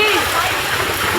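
Dark, knee-deep floodwater churns and splashes around someone wading through a flooded house during heavy rain, a steady near sloshing with voices faintly in the background.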